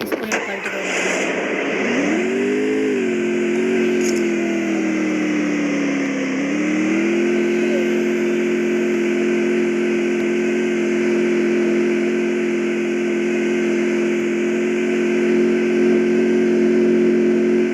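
A motorcycle engine in the Free Fire video game revs up and then settles into a steady drone, loud and continuous under a faint background of game noise.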